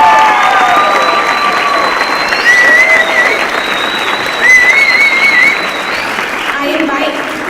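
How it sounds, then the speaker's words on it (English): An audience at a high school ceremony applauding warmly for a student's parents, a dense sustained clapping with a few cheers and voices mixed in, fading slightly near the end. "I would like everyone to give a big round of applause for his parents"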